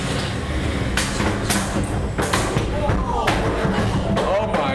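In a 1 lb combat robot arena fight, repeated heavy thumps and slams ring out as one robot is thrown around by another, over a steady loud background hum of the event.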